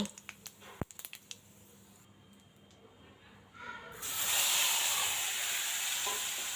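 Potatoes are fried in oil already seasoned with bay leaf and cumin. A few light taps are followed by a burst of loud, steady sizzling that holds close until the end.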